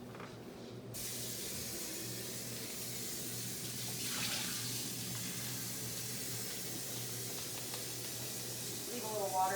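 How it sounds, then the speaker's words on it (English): Tap water runs steadily into a cooking blender jar as it is rinsed out, a continuous close hiss and splash throughout, with a brief clatter near the start. "I'm going to make sure I dump all that out and then go ahead and rinse it out"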